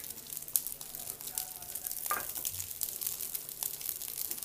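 Oil sizzling in a pan while making egg dosa with sliced onions, a faint, steady crackling hiss with a brief scrape of a spatula.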